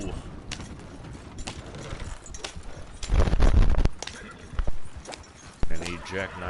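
Horse hooves clip-clop in a rhythmic series in Red Dead Online, sitting under people talking excitedly over game sounds, with a louder burst of noise midway.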